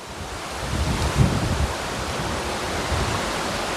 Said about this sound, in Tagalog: ito ay isang ilog. Dito yan mismo sa may paanan ng Mount Makiling.